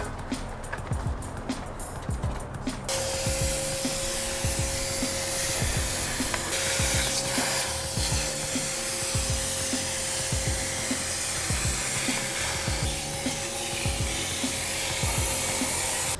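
A vacuum cleaner sucks up loosened grime from window frames during a move-in cleaning, giving a loud, continuous motor roar with a steady whine that runs throughout, with no talking.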